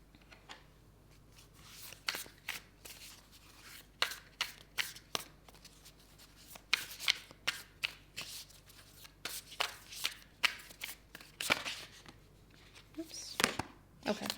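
Oracle cards being shuffled by hand during a tarot reading: a long run of quick riffling flutters and soft slaps, close and fairly quiet, with faint pauses between bursts.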